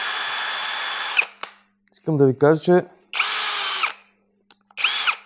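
A TOTAL 3-in-1 cordless drill whirs loudly in three separate spinning bursts, each starting and stopping abruptly, with someone speaking briefly between them.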